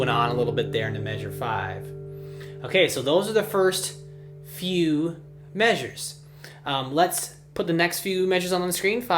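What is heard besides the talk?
No distinct noise like a dog, phone or traffic.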